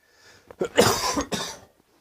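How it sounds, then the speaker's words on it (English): A person coughs a few times in quick succession, close and fairly loud, with brief rough bursts. "I shouldn't be coughing in your ears."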